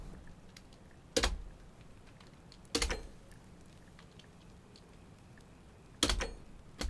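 Computer keyboard struck in three separate bursts of sharp clicks spaced a few seconds apart, close and loud against a quiet, faintly humming background.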